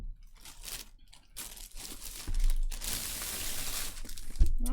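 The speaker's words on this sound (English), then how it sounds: "Looks like I'm gonna have to cut the tape. Handy dandy scissors." Scissors cut through packing tape on a cardboard box, a run of close crunching and crinkling slices and tearing strokes, louder toward the end, with no voice.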